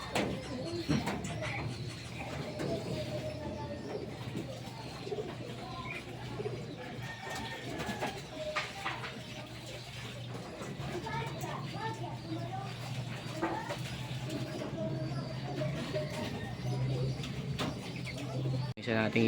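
Racing pigeons coo and flutter at a loft in Pagbilao, Quezon after a summer training flight, with a low, steady cooing under scattered chirps. A voice talks over it now and then.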